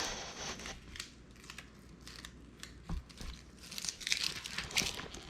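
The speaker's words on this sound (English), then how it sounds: "this tool will let you just grab the edge and then just start peeling it away" Background vinyl peeled away from a tumbler decal with a hand tool makes soft crinkling and ticking, with small crisp bursts that grow busier toward the end, close and quiet.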